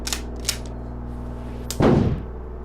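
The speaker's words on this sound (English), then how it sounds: "Sounds like the car's being hit with an incredible force." Heavy impacts on a car in the police game Flashing Lights: a couple of sharp cracks, then a loud booming crunch with a rumbling tail, alone without talk.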